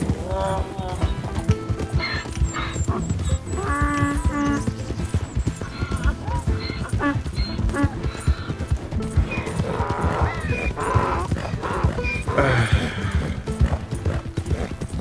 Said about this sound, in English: Why is the donkey ahead of me?